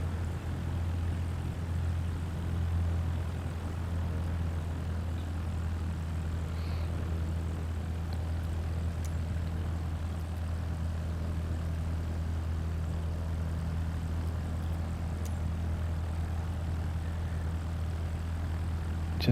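An aircraft engine idles on the runway at Fife Airport in Microsoft Flight Simulator 2024, giving a steady, continuous low drone that never changes, with no speech.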